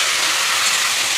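Sliced ash gourd dropped into a hot pan, giving a loud, dense, continuous sizzling hiss that stays steady, with a brief clatter at the end.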